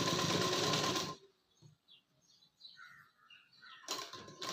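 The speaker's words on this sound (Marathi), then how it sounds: "आता याला आपण मजबूतीसाठी डबल शिलाई मारूया" A sewing machine runs a double line of stitching along the seam of a prince cut blouse: a loud, rapid mechanical whir for about a second, then near silence, then the machine starts up again at the end.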